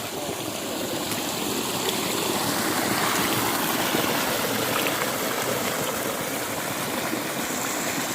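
Water rushes in a steady, dense roar as a stream spills over a low check dam, constant and close with no pauses.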